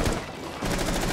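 Automatic gunfire in the tactical shooter Rainbow Six Siege, a loud, dense burst that drops briefly, then resumes as steady rapid fire.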